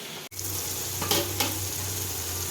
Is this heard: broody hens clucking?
no